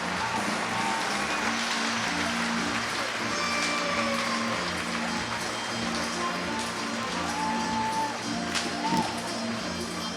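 Audience applause for the horse Nana 492, the previous year's horse of the year, at a studbook stallion presentation. A steady, dense wash of clapping runs the full length at even loudness, with music under it.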